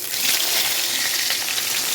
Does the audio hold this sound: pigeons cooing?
no